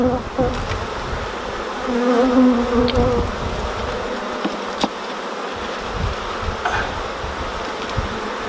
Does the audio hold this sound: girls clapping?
no